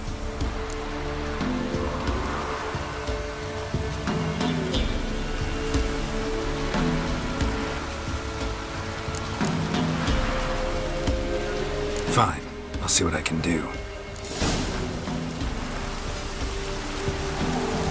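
Steady rain falls in the video game The Witcher 3: Wild Hunt, a constant hiss running throughout under game ambience, with a brief spoken line from a voice partway through.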